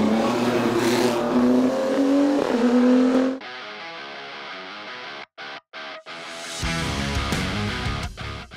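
Race car in the Production series at the 40th Saint-Gouëno hill climb in Côtes-d'Armor, a loud engine note rising in pitch under acceleration, cutting out abruptly, a few clipped bursts, then another loud passage.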